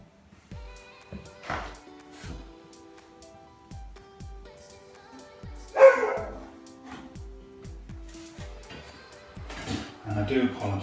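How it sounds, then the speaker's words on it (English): A neighbouring dog barks repeatedly in the background of a bathroom floor tiling job, each bark short and sharp, coming in a steady rhythm with a few louder bursts while a person talks over it. "And I do apologise about the dog in the background."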